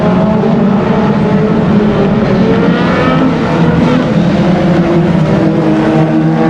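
Race cars roar around Aldershot Raceway in a dense, loud, continuous wash of engine noise, several machines blending together at close range with no break.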